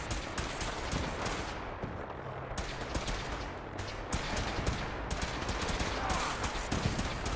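Rapid bursts of automatic and single gunfire from a Fallout 4 firefight crackle loudly and repeatedly, clustered in volleys with brief gaps between them, with no voices over the shooting.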